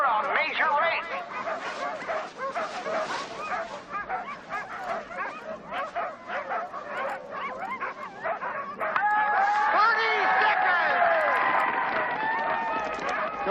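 A team of sled dogs barks and yips excitedly before a race, dense overlapping barks and whines, getting louder and more frantic toward the end, with people talking over them.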